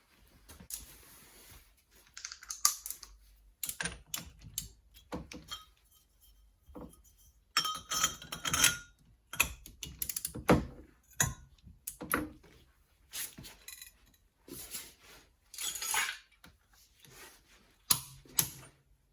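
Ratchet tightening the brake hub nut on a classic Rover Mini, with repeated clicking and metallic clinks in irregular bursts and pauses, close up and fairly faint.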